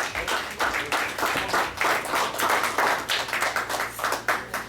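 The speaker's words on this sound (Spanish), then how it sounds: "Denle un fuerte aplauso al Señor" A church congregation claps in uneven waves, lively and fairly close, with a low sustained musical drone underneath.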